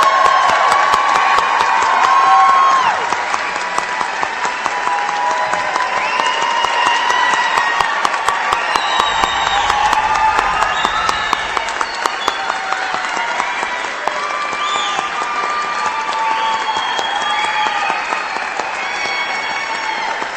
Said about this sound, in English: please join me once more in recognizing these impressive individuals of the graduating class of 2025 for their accomplishments by offering a round of applause